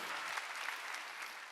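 A congregation claps in applause during a church worship service, a steady wash of many hands at moderate distance with no speech over it.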